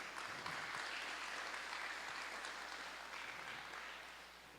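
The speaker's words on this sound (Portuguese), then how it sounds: "Aplauda o Senhor" A small church congregation claps together in praise during a worship service, a faint, steady wash of applause that fades slightly toward the end.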